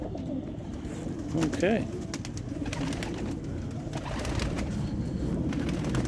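Young racing pigeons coo softly in a loft, low rolling calls repeating under steady background noise, with one brief spoken word nearby.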